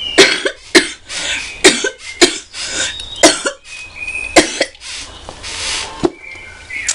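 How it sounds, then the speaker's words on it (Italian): A person coughs repeatedly in close, harsh bursts, about a dozen rough coughs in an uneven rhythm with short breaths between. "questa tosse non mi abbandona mai."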